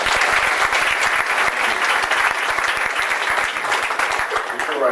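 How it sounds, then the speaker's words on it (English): A large audience applauds a school board at a Summer Creek community event, dense steady clapping filling the room loudly and continuously throughout. "Please give them a round of applause."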